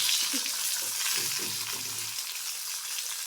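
Pithe cakes, puli pitha, deep-frying in mustard oil, a dense even hiss of bubbling oil filling the sound, with a faint low voice murmuring briefly early on.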